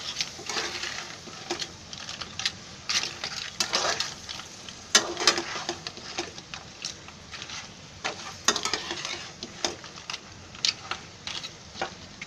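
Crab shells stirred through masala in a pan for crab curry, giving a steady frying sizzle broken by frequent scraping and clacking stir strokes at close range, with no talking.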